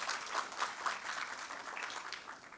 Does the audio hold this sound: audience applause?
yes